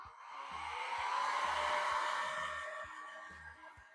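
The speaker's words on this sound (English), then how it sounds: "I like to use a little mini blow dryer." Mini blow dryer set on low, drying fresh nail polish, a soft steady airy whoosh that swells and fades over a few seconds with a low rhythmic thumping beat behind it.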